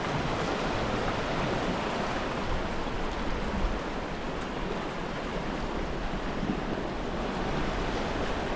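Ocean surf breaking on the New Zealand coast near Kaikoura at dusk, a steady, dense wash of waves with some wind noise, continuous and fairly loud throughout with no voices.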